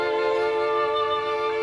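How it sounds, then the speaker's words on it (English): String section captured only on a lapel mic, a sustained bowed chord with a steady, slightly thin and roomy tone, held for the whole moment without voices. "What you're hearing right now is what the strings sounded like just coming into my lapel mic."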